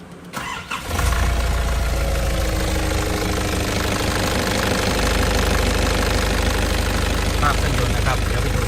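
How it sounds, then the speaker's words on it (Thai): A 2005 Nissan Urvan E25 diesel van engine cranks briefly then catches and settles into a steady, loud, knocking diesel idle that runs on unchanged. "เดี๋ยว สตาร์ทเครื่องให้ดูนะครับ"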